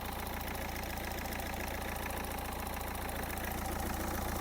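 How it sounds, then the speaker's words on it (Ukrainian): An Opel Zafira B 1.7 diesel engine idles steadily throughout, a constant low rumble with an even mechanical drone and no talking. "робота двигуна."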